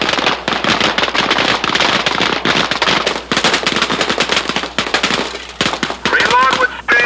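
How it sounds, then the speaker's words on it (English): Rapid pistol gunfire at a police shooting range, with dense sharp cracking shots in quick overlapping bursts, loud and close, with a brief pause and a raised voice near the end. "Reload with speed, continue firing."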